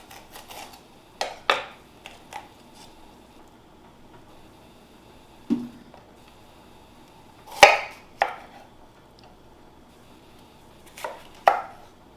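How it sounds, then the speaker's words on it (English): A knife cuts through a green pepper on a board, coring it and then slicing, giving several sharp, separate chops spread across the span with quiet gaps between them. "you just run your knife in, cut the core out, and remove it, and then we slice it"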